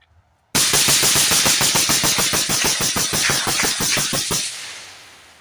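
Rapid string of about fifteen rifle shots fired through a CMMG ZEROED 30K K-Can suppressor at a shooting range, loud, fast and evenly spaced reports ending in a fading tail, no speech.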